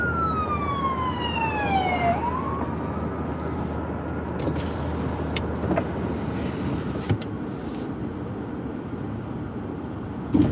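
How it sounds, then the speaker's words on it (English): An ambulance siren wails down in pitch as it passes on a street, then fades into steady traffic noise with occasional clicks. "An ambulance."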